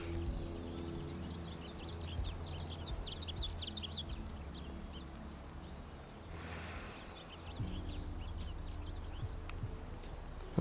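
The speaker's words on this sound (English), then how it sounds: "you're hearing the birds singing around me" Birds sing and chirp outdoors in repeated short, high calls at middle distance, set over a steady low background rumble with no talking.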